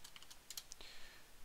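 Quick, light typing on a computer keyboard while entering a pandas command into a console, a short run of soft, uneven keystroke clicks heard close up.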